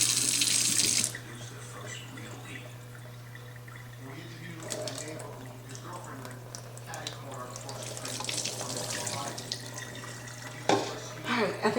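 Running water from a tap splashes steadily while hot water rinses over a scalp during hair washing, with a steady hum beneath and brief splashes and handling noises, the flow strongest at the start.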